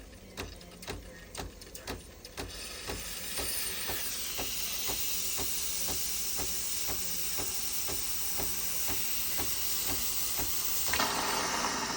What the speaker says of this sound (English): And steam should be working fine as well.